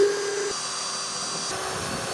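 A drill bores a hole through wood for a napkin holder, giving a continuous whirring motor drone that starts with a sharp higher whine and then settles into a steady grind, close and heard without talk.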